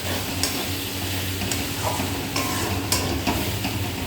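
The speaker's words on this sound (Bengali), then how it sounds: "মশলাটা একটু ঘন ঘন নাড়া দিতে হবে" Spice masala being stirred and fried in a pan, a steady close sizzle with scraping stir strokes throughout, no voices.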